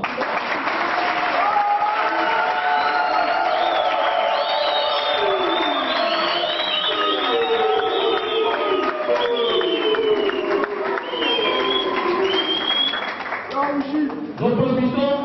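Loud, sustained crowd cheering and applause at a UDPS political party rally, steady clapping under rising whoops, shouts and ululating voices that carry on without a break.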